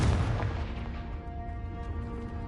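A Confringo explosive spell detonates in Hogwarts Legacy with a heavy boom, a deep rumbling blast that rolls out and lingers as a dense, loud tail over its short span, no voices present.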